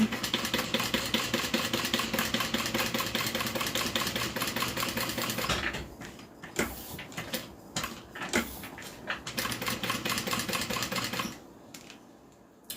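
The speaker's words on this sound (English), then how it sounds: "All right, I'm gonna sew." A sewing machine stitches steadily for about six seconds, sewing a notebook and eyeglass holder. It then stops, and scattered close handling clatter and knocks follow.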